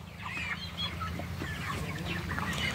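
Chickens in a poultry shed cluck and chatter continuously, many birds close by and overlapping, with a steady low hum beneath them and no voices.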